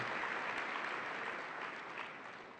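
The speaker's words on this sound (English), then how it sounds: "let's give all these graduate students a round of applause" Luncheon audience at the Donald W Reynolds Governors Cup Awards applauding graduate students, a dense, even roar of many hands clapping from a distance that fades slightly toward the end, with no talk.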